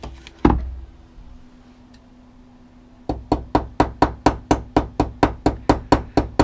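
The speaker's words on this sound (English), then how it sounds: "I also hammer it just a little bit." A rolled reed staple is tapped with a small hammer: one sharp knock, a pause, then a fast, even series of about sixteen close, crisp metallic taps.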